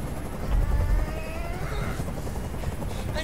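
A helicopter in the Detroit: Become Human video game, a steady rumbling rotor drone that holds at a moderate level throughout with faint background noise.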